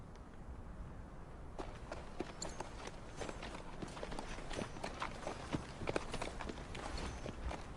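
Hooves clop on hard ground in a loose, uneven rhythm, fairly faint, as horses walk along with soft background noise.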